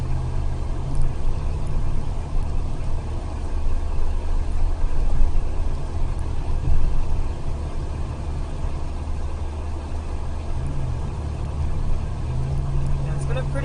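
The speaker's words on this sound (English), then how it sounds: "it's been a pretty good drive on 696" A car cruises along the I-696 highway in Michigan between Troy and Southfield, its steady low engine and road rumble filling the cabin at a constant level, with someone talking over it now and then.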